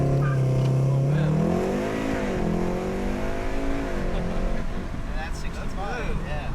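An APR Stage 2 tuned Golf R with full bolt-on exhaust accelerates hard from inside the cabin with the windows down, engine note climbing steadily through the revs while people talk and exclaim over it.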